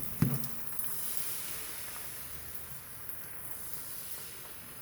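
Pancake batter sizzles in a hot pan, a steady soft hiss that starts with a brief sharp splash and then holds low and even throughout, with no talking.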